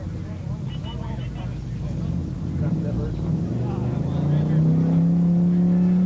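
A 1968 Firebird and a 1969 Super Bee 440 six-pack automatic launch in a pure stock drag race, engines roaring with a pitch that climbs steadily louder as they pull away, under a commentator's voice.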